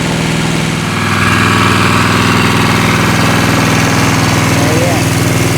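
A well drilling rig's engine runs loud and steady, close by, while it flushes white sand out of a freshly drilled 4-inch pipe for a submersible pump. A low, droning mechanical rumble swells after the first second and holds without a break.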